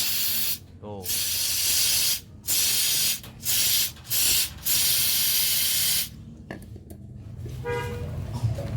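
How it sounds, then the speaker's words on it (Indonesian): Carburetor cleaner sprayed onto an engine part of a Yamaha Mio Gear motorcycle, several loud hissing bursts of varying length separated by short pauses, with a person talking briefly between them and clinking near the end. "Ini juga mesti dibersihin nih, disemprot pakai carpet."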